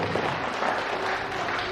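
A church congregation claps during a Sunday worship service, a soft, diffuse patter of applause heard from a distance in a reverberant hall.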